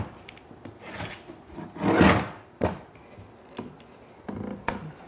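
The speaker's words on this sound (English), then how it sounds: "So now I'll start clamping down on it" A clamp is tightened down onto wood lumber for a stool build, giving close scraping, rubbing creaks with a louder grinding swell in the middle and scattered knocks.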